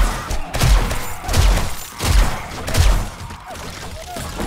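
Gunfire shooting down at enemies in the game 7 Days to Die Darkness Falls mod, a series of heavy rhythmic low thumps about every 0.7 seconds, loud and close, with mid-range game noise around them.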